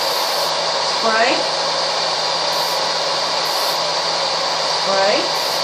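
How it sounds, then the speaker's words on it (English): Steady, loud blow dryer roaring continuously while drying a wirehair dachshund's coat during grooming, with brief faint voice sounds over the constant airflow. "The blow dryer is going to help it dry."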